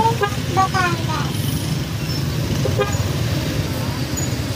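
Car horns tooting in heavy road traffic in Taal, Batangas, several short honks scattered over a constant rumble of engines, with people talking nearby.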